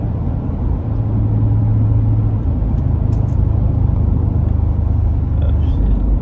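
A loud Jeep with a 5.7 Hemi engine drives along, a heavy, steady low rumble and drone filling the cab, close and continuous with no talk.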